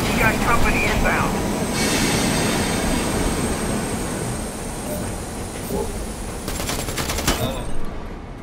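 A train starting up in the multiplayer shooter Predator: Hunting Grounds, a steady loud rumbling clatter with bursts of game gunfire near the end and no speech over it.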